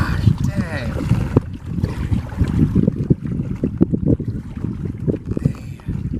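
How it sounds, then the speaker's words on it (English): Wind gusts buffet the microphone while kayak fishing on a winter day, a loud rumbling roar with water sloshing, and a voice talks over it throughout. "with all this wind, you probably can't hear a dang word I'm saying"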